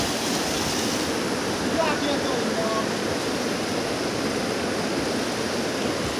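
A river in Chamoli district, Uttarakhand, rushes in a constant loud roar of flowing water, with voices faintly mixed into the wash.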